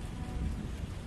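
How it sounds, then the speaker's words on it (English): Heavy rain pours down outside, a steady, dense hiss of falling water that holds level throughout, with no voices over it. "It's pouring raining outside."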